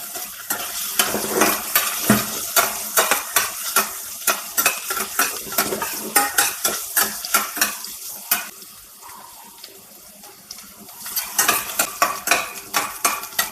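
Garlic sizzles and fries in a hot pan for a curry while a utensil stirs and scrapes it in steady, repeated strokes, close and fairly loud, with a quieter stretch of sizzling before the stirring picks up again.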